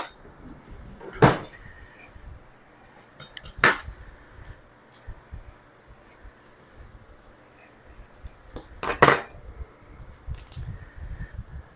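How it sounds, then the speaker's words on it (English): Kitchen drawer and cutlery sounds as a knife is fetched: a few sharp metallic clinks and clatters spaced out over faint, quiet background rustling. "let me get a knife"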